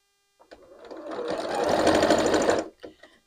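A sewing machine runs steadily for about two seconds, stitching over the many layered seams of a Block Loc kite, its motor whirring loud and close before stopping, with a few faint clicks after.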